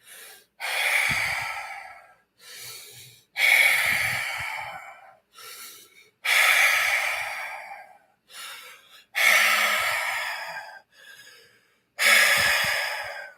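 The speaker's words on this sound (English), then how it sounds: "open your throat and full open mouth breathing, open throat breathing" Slow, deep open-mouth, open-throat breaths from a single nearby person, close and loud, each long airy exhale or inhale separated by short pauses and softer catch breaths, repeating about five times with no talk.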